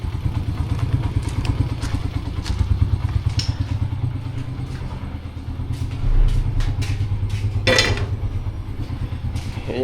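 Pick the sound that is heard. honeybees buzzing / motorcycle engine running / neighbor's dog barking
motorcycle engine running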